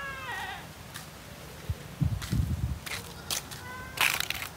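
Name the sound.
goats bleating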